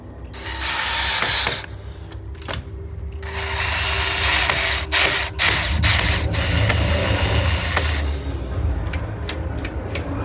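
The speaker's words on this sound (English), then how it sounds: "you want to put the drill into slow speed there so that you have more control over it" A power drill on slow speed drives screws while a lockset is installed, whirring in uneven bursts with short stops and ratcheting clicks, close and fairly loud, with light handling knocks between runs.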